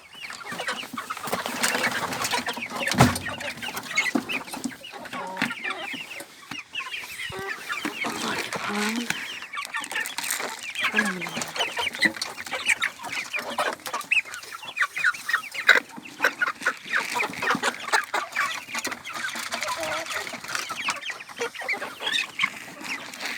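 Kazakh chickens cluck steadily while being fed wheat soaked in water for two days, a busy flock close by with overlapping clucks and scratching, and a person's voice occasionally heard among them.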